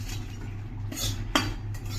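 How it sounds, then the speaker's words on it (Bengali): A spoon scrapes and clinks against a metal kadai while cumin seeds, fried in mustard oil with bay leaf and dry chilli, are crushed under its back, giving a few soft scraping strokes and one sharper clink over a low steady hum. "এবারে ফোড়নের ওই জিরাটাই আমি ভেঙে"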